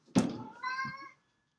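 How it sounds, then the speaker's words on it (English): A cat meows once in the background, a short clear two-part call that rises then trails off, heard alone and fairly faint. "That's my cat in the background."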